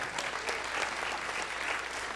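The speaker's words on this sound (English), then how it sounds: "Give them all a round of applause." Brief, even burst of audience applause at the opening of an event, steady dense clapping filling the whole moment.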